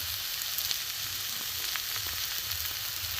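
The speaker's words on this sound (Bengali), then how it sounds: "জিরের গুঁড়ো, ধনের গুঁড়ো দিয়ে আমি এটাকে ভালো করে কষে নেব।" Jackfruit filling for kachori frying in a pan with salt, turmeric and chilli powder, giving a constant, moderately quiet hiss and crackle with a few faint stirring ticks and no talking.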